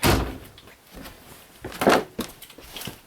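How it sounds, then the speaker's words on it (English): A door in a small tiny-house kitchen is pushed shut with a couple of dull thuds and some light rattling nearby. "Oop, gotta shut the door, baby cat's back."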